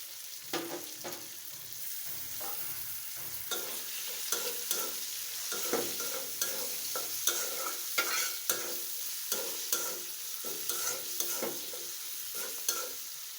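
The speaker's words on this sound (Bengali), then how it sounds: "কিছুক্ষণ ভেজে নেব।" Salted hilsa frying with ginger, garlic and cumin paste and green chilies, a continuous close sizzle broken by regular clinking strokes of a spatula against the pan, no voices.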